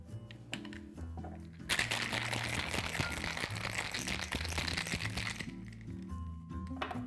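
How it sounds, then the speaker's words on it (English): Ice rattles hard and fast inside a cocktail shaker mixing a sugar cookie martini in a continuous vigorous burst, close by, with quieter clinks before and after. "we're just gonna shake this up. You wanna shake it pretty vigorously."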